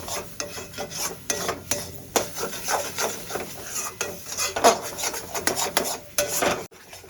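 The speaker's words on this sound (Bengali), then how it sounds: "সব মশলাগুলো আমি ভালো করে মিশিয়ে নেব" Spoon stirring and scraping spices, including Kashmiri red chilli powder, in a pan for Kashmiri dum aloo, giving a steady run of close, loud rasping rubs with no talking.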